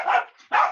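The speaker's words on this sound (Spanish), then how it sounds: "hoy día mis perros andan súper inquietos" Two sharp, loud barks from dogs close by, separated by a short pause, with no talking over them.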